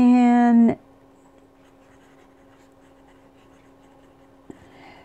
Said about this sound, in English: I do write fast, but this pen has been keeping up really well